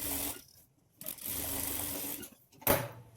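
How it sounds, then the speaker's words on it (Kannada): A sewing machine stitching a blouse runs in short bursts, with a steady mechanical whirr broken by brief pauses and a sharper clack near the end. It is close and moderately loud, with no talking. "ಸ್ಟಿಚ್ ಮಾಡ್ಕೊಂಡಾದಮೇಲೆ ಇದ್ರ ಮೇಲೆ ನಾವು ಇನ್ನೊಂದು ಸ್ಟಿಚ್ ಹಾಕ್ಕೊಳ್ಬೇಕು."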